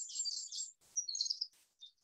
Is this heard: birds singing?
yes